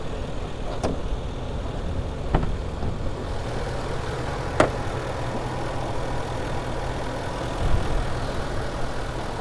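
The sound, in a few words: 2013 Range Rover Sport HSE engine idling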